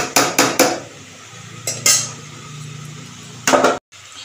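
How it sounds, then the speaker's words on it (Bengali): A spoon stirs grated carrot in ghee for carrot halwa, giving sharp metallic knocks and scrapes against the pot in short bursts, with quieter pauses between them and a low hum underneath. "কিছু করে এই ঘিয়ের মধ্যে এটাকে একটু নাড়তে হবে।"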